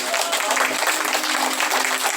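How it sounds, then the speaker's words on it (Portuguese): A church congregation claps together in a dense, steady burst of applause, close and fairly loud, with no voices rising above it. "Dê umas palmas para Jesus"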